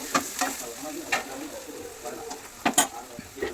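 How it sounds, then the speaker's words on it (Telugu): Ridge gourd and potato curry with turmeric is stirred in a pan. Soft spoon scrapes come in irregular strokes over a quiet, continuous sizzle of frying. "కొంచెం పసుపు వేసుకొని కలిపేసుకోవాలండి"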